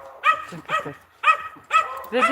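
A dog barks in short bursts, about five sharp barks with brief pauses between, fairly close and loud.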